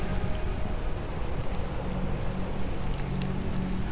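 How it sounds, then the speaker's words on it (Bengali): Steady rain falls in a dense, even hiss of drops on surfaces, continuous and fairly loud with no other sounds, used as an atmospheric effect in a spoken horror story. "আজ সকাল থেকে বেশ মায়াবী বৃষ্টি শুরু হয়েছে গোটা মফস্বল জুড়ে ঝিরঝির করে"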